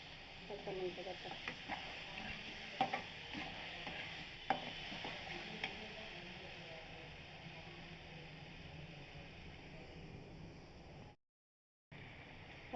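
Onion with a paste of cumin, ginger and green chilli fries in a pan, making a close, quiet sizzle with scraping stir strokes and scattered clicks that fade toward the end before a brief silence.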